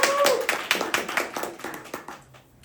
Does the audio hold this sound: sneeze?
no